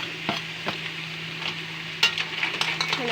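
Tomato and ginger fry in a pan for a mussel dish, a constant sizzle broken by spoon scrapes and clinks against the pan as they are stirred, no voices.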